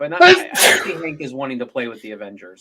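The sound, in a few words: sneeze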